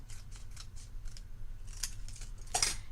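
Scissors cutting down the middle of felt hook-and-loop fastener strips, a series of close, crisp snips with a louder final cut, no talking.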